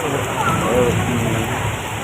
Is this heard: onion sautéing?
no